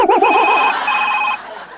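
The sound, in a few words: telephone ringing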